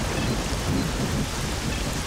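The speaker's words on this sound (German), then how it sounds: "Und es regnet, was ich nicht ganz so gut finden kann" Rainfall in the shooter game STALKER: Shadow of Chernobyl, a dense steady wash of rain with low rumbling, continuous and fairly loud with no voices.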